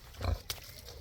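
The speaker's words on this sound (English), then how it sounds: "Mama Pig is definitely pregnant and due to have piglets soon" A pregnant sow gives a short, low, close grunt followed by a quieter snort, heard alone in a quick burst of about a second.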